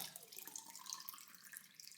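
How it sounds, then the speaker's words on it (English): Water poured from a mug into a milk bottle, a soft continuous splashing trickle, faint and close, lasting a couple of seconds with no talk. "And then I'm going to pour it into my milk bottle and see if I'm right."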